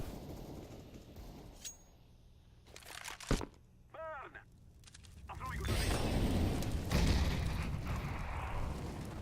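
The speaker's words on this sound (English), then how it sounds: "Throwing smoke." A smoke grenade is thrown in CS:GO on the Mirage map. A few clicks and clinks come first, then a loud, sustained hiss of billowing smoke fills the last few seconds.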